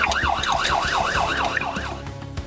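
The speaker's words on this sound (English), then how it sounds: "The deputy attempted to stop it, but Derek briefly pulled over and then continued to evade, ignoring the emergency lights and sirens" A police car siren wails in a fast, repeated up-and-down sweep during a highway chase, loud and close, with road and engine rumble underneath.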